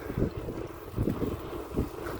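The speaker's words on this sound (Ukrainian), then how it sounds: "Сьогодні трошки вітер у нам зустрічний, але не сильний." Steady wind buffeting a microphone outdoors on a cool morning, with low rumbling gusts from a mild headwind that swell and ease continuously, no voices, while travelling out of Berezne, Ukraine.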